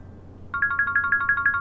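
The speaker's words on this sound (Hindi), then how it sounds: "रूना का फोन है।" A phone ringtone starts after a half-second of quiet room tone and repeats as a quick, steady run of bright electronic pulses, fairly close and clear, with no talking over it.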